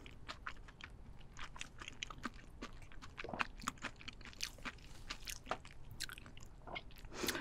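Steamed king crab, tiger prawns, scallops and other seafood being eaten closely, with steady quiet chewing, wet bites and faint crunches throughout, soft overall and without speech.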